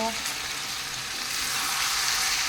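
Chicken sautés (kosha) in a pan, giving a continuous moderate sizzle with a faint stirring sound near the start and no clear speech.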